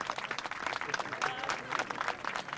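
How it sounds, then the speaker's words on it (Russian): An audience in a drama series scene applauds a man being honored, a soft, fairly distant round of clapping with a voice faintly mixed in. "Наши аплодисменты Павлу Адамчикову"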